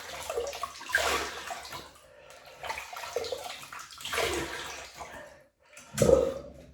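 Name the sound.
rinsing face with hot water while shaving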